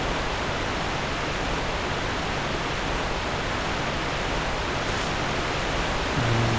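Steady rushing roar of a waterfall in the video game Dark Souls 2, a constant broadband wash of falling water filling the whole scene without pause.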